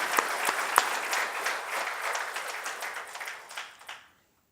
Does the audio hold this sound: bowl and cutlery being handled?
no